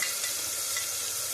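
Onion paste and green chillies frying in hot oil, a steady dense close sizzle with no pauses throughout the short stretch.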